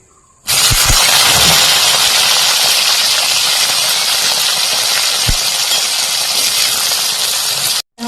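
Eggplant dropped into hot cooking oil bursts into a loud, dense sizzle that starts abruptly, holds steady and close for several seconds, then cuts off just before the end.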